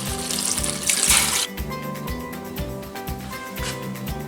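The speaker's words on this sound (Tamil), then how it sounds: "இப்போ குழம்புக்கு தேவையான தண்ணி விடுவோம்." Water running from a tap into a pot of chicken gravy being cooked, a steady splashing gush that is loudest near the start, then continues more softly with background music and no talk.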